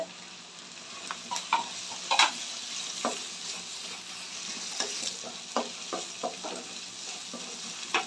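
Onions with mint sautéing in a pan for spiral pasta, a steady faint sizzle beneath scattered light scrapes and taps of a stirring spoon, close but quiet.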